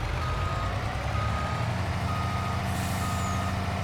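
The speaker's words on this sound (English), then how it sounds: "Now we'll just back the old truck up." A truck backing up in Farming Simulator 22 on PS5 gives off steady repeating reversing beeps over a continuous low engine drone, heard up close and fairly loud.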